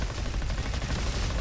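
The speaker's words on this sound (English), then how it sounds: "So we get an explosion from every fourth shot" Raptor SMG firing in the Roboquest video game, with an explosion on every fourth shot: dense rapid gunfire blending into booming blasts, loud and continuous across a short burst.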